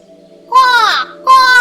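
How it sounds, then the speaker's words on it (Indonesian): A crow in an animated story caws twice, with loud, close, nasal calls separated by a brief pause over a low steady hum. "Sang gagak segera terbang menukik ke arah kendi air tersebut sambil berseru dengan"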